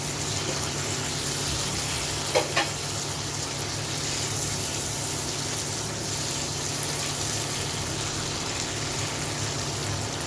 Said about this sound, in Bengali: কষাবো এখন, কিছু টমেটো দিব।